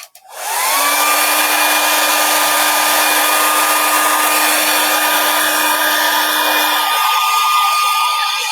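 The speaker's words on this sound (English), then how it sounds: "So I'm just going to give that another dry with the old hairdryer." A hairdryer blows steadily on a watercolour painting to dry the paint, a loud, continuous whirring hum that starts abruptly and runs for several seconds before shutting off, with no talking.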